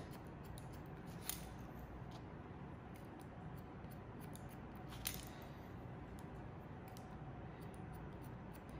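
Scissors trimming hair during an asymmetrical bob haircut: two soft, crisp snips several seconds apart, close but quiet over a low steady background hiss, with no talking.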